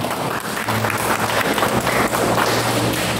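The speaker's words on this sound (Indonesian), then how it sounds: "monggo kita berikan tepuk tangan yang meriah" An audience at a regional teachers' association meeting in Semarang breaks into sustained, lively applause, a dense steady wash of clapping hands filling the room for several seconds.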